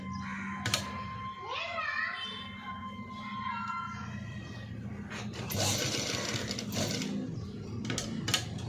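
A sewing machine runs a double stitch on a sleeveless cut-work padded blouse, its whirring bursts coming and going under someone speaking nearby.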